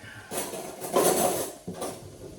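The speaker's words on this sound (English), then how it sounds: "Let's give that a little whisk." Eggs and grated cheese whisked briskly in a bowl, a busy run of metallic clinking and scraping that swells in the middle, pauses briefly, then resumes.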